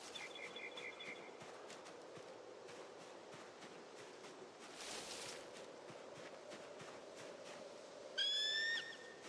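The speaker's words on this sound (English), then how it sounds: "Wow, that bird was loud." A loud bird call in the survival video game Project Zomboid, a sharp rising whistle-like cry near the end, following quieter outdoor ambience and a softer hooting call earlier.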